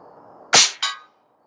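A single shot from an AirForce Condor .22 air rifle firing slugs, a sharp loud crack followed almost instantly by a second smack of impact, then silence.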